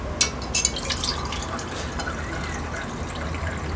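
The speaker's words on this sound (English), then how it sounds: "Then we get our hot water." Hot water pouring into a glass holding grated ginger; a couple of light clinks open it, then a steady, soft trickle of liquid filling the glass continues to the end.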